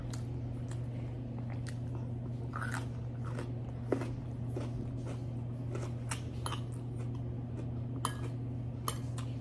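Close, crisp crunching bites and chewing of pickled radish slices, with irregular crunches and faint clinks of cutlery over a steady low background hum.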